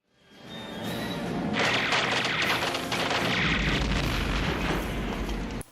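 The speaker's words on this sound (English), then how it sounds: "He flies towards him and shoots at him with machine guns and missiles" Batman film battle scene with machine guns and missiles firing: a loud, continuous barrage of blasts and heavy booms rolling on for several seconds, with no talking.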